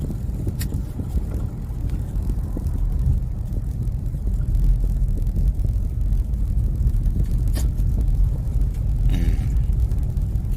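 A car engine running during a driving lesson, a continuous low rumble with road and wind noise, steady throughout and fairly close.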